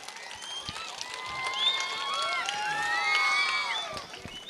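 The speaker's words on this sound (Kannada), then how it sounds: "ಎಲ್ಲರೂ ಒಂದ್ಸಲ ಚಪ್ಪಾಳೆ ಹೊಡಿದಿ" A lively crowd at a comedy show claps along amid cheering and children's shouts, sustained and fairly loud throughout, with voices mixed in.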